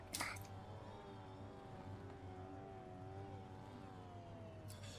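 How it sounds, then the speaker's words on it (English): Race car engines in a sim racing game at the Charlotte Roval road course, a continuous droning engine tone with rising and falling pitches that overlap, steady in level, with a brief sharper burst at the start and end. "when there's people revving their engines"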